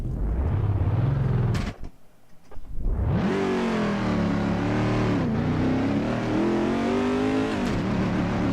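Corvette C6R race car at Silverstone in Assetto Corsa, its engine roaring loud and close, revving hard, dropping briefly on a lift and gear change, then climbing through several aggressive upshifts.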